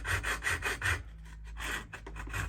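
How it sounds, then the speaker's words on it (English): A roller blind tube is being hand-sawn in quick back-and-forth rasping strokes, about four even strokes, then a brief pause and a few more strokes, close up. "cutting, turning the tube, keeping to that line all the time, going all the way around until such time as you get through it"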